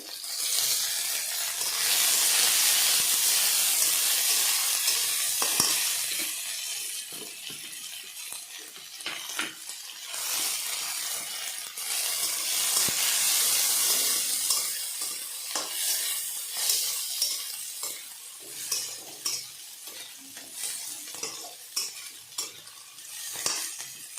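Beans frying in a pan for ponner pollow (a pulao with cashews and raisins), a steady loud sizzle with frequent scraping and clinking of a utensil stirring, the clatter growing more rhythmic toward the end.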